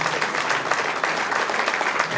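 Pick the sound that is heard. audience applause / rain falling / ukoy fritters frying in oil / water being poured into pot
audience applause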